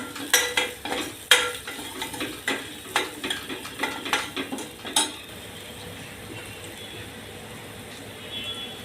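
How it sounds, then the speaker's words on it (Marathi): Kashmiri chili powder is stirred in a pan for a raw mango dal, with a quick series of close scraping, clinking spoon strokes for about five seconds, then a faint, quiet sizzle. "काश्मीरी मिरची पावडर मी दोन चमचे टाकते आपण जरा आता परतून घेऊया"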